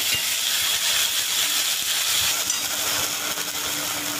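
Homemade red masala spice tipped into hot oil for an egg curry, giving a steady, close, even sizzling hiss that holds for several seconds with no voices.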